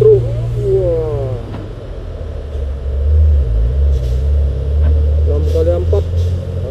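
A 6x4 dump truck's engine climbs a hill at Bukit Kodok, a loud, deep labouring rumble that swells and strains while people talk nearby.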